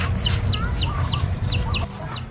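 Chickens clucking in short, repeated calls close by, with steady low background rumble throughout.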